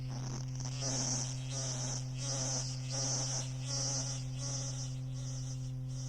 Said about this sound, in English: On a summer evening, you can hear the crickets chirping.